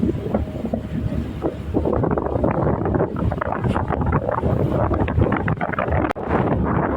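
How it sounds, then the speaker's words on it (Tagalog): Strong evening wind at Kabuknoy, Puerto Galera, roars steadily across the microphone, a loud, constant buffeting rush with no one speaking. "Sobrang hangin."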